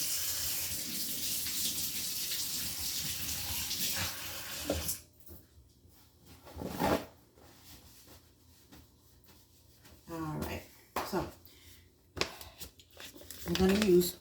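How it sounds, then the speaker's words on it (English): Hands washed under a running kitchen tap before kneading dough, with a steady water stream that stops midway, followed by brief splashes, rubbing and crinkling, and a voice speaking now and then. "So let me wash my hands, and then we'll get started."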